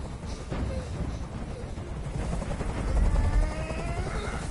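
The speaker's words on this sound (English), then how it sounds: "I can't stand that noise anymore. Tell that helicopter to get out of here." A helicopter hovers nearby in the video game Detroit: Become Human, its low, steady rotor rumble and chop filling the scene and swelling slightly partway through, with faint voices in the background.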